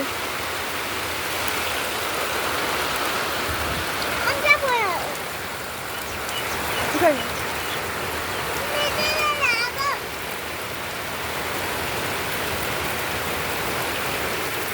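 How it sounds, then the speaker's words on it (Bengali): Heavy rain pours outdoors over open fields in a loud, even wash, with a few brief chirping or vocal sounds rising faintly above it. "প্রচুর বৃষ্টি হচ্ছে আমাদের এখানে।"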